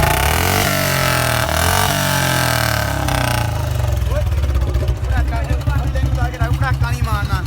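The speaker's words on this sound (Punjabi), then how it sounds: "ਚੜਾ ਲਿਆ ਆਪਾਂ ਬੁਲਟ ਤੇ ਹੁਣ ਇਹਦੀ ਕਿੱਕ ਮਾਰ ਕੇ ਦੇਖਦੇ ਆ" A Royal Enfield Bullet motorcycle fitted with a long exhaust pipe runs loud and close, its steady low engine rumble and clattering exhaust filling the clip, with voices talking over it in the later seconds.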